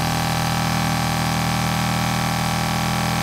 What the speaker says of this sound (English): It just has like a little humming sound